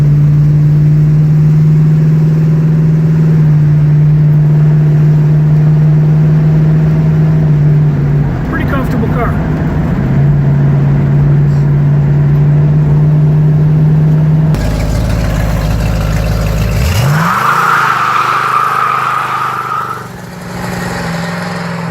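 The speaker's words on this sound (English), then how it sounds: "It was nice that the client was willing to give us a little burnout there." A 1970 Dodge Challenger convertible engine rumbles loudly at steady revs, then roars up with a rising tire-spinning burnout surge before dropping away, with people talking over parts of it.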